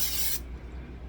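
A short burst of cooking oil spray hisses onto mozzarella sticks in an air fryer basket, close and brief, then stops, leaving quiet room tone.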